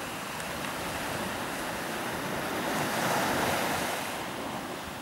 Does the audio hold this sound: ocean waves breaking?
yes